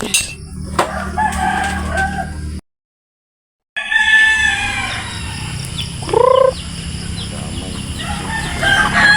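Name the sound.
chickens crowing and clucking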